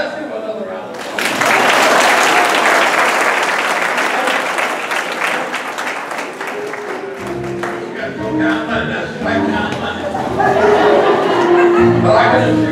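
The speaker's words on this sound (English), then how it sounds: "Let's give her another round of applause." Applause from an outdoor BBQ crowd at a local Democratic Party gathering, a long, dense clatter of clapping that fades into scattered claps and chatter, with a dog barking intermittently nearby.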